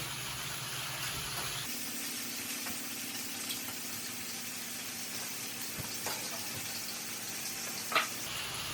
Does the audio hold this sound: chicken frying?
yes